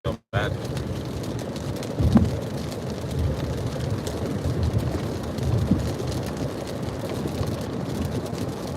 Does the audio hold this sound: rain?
yes